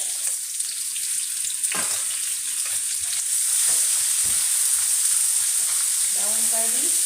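Round-cut onion slices fry in hot oil, a steady close sizzle with a few scraping stirs and a brief clatter near the end.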